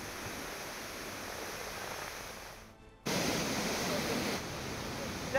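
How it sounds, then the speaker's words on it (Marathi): Floodwater flows heavily after two days of torrential rain in Bhandara district, with swollen rivers and streams running over. A steady, loud broadband rush fills the scene, briefly dropping out before returning stronger and continuing unbroken. "मोठा प्रवाह सध्या पाण्याचा इथून सुरू आहे"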